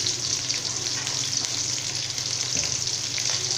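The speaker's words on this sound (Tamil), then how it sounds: "அடுத்ததாக கொஞ்சமாக கருவேப்பிலை சேர்த்துக்கிறேங்க." Shallots, crushed garlic and curry leaves fry in hot oil for sambar with a loud, continuous sizzle and crackle and occasional stirring scrapes, with no one talking.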